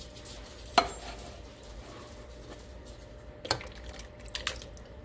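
Stirring tomato sauce made with Del Monte stewed tomatoes in a pot gives soft, quiet scraping and squishing, with a few sharper clinks of the spoon against the pot.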